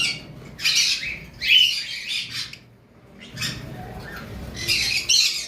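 A pair of lovebirds, a yellow male and a creamino female, squawk loudly up close in harsh, shrill bursts, several calls in quick groups with a short quiet gap in the middle.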